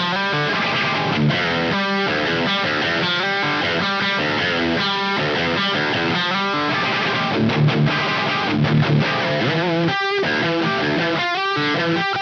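A Harley Benton TE-62 Telecaster-style electric guitar plays a high-gain distorted rhythm riff, loud and continuous, with choppy palm-muted chugs and short breaks over about twelve seconds, without talk.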